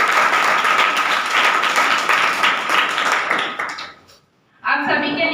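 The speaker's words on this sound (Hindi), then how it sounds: "एक बार जोरदार ताली आप सभी के लिए बजा दीजिए" Audience at a gathering bursting into loud, sustained applause, dense clapping that fades out briefly before resuming strongly, with someone speaking nearby.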